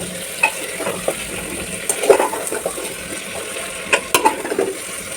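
Chicken with potatoes and whole garlic is sautéed in a pan, a soft continuous sizzle broken by clusters of spatula scrapes and clinks, close and moderately loud.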